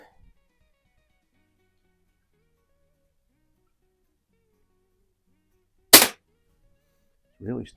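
A single sharp crack from a Hy Score model 819 air pistol (a Diana 10) after a reseal, firing once in a quiet room; a short voice follows a moment later.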